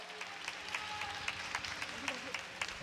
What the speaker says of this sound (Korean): 열심히 사는 양 선수에게 힘찬 박수 보내시기 바랍니다